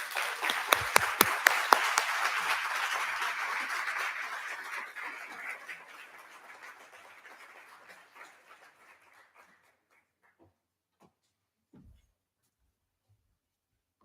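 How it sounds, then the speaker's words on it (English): A municipal State of the City audience breaks into a loud round of applause with scattered whoops, staying dense for several seconds before thinning to a few last claps and near silence. "You all deserve a round of applause."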